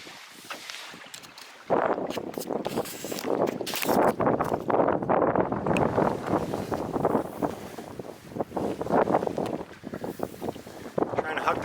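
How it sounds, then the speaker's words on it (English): Gusty wind buffets the microphone in loud, uneven surges while a canoe is paddled along a lake shoreline, rising abruptly after a quieter opening moment and roaring on without pause. "It is windy."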